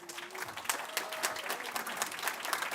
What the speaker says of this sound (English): That certainly deserves a round of applause